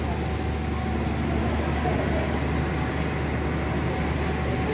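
A steady low rumble of the Majapahit train passing at a distance near Pasar Senen station, Jakarta, droning evenly with a faint hum, no clear speech.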